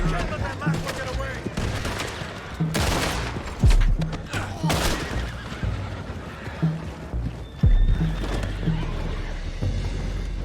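Horses whinny and neigh amid a gunfight in Red Dead Redemption 2, sharp gunshots cracking at intervals over hoofbeats and clatter, with game voices talking intermittently.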